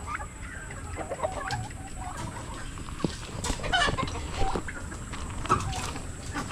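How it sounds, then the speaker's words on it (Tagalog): Old rooster and chickens on a farm clucking intermittently at close range, with scattered short calls over a low outdoor background. "matandang tandang."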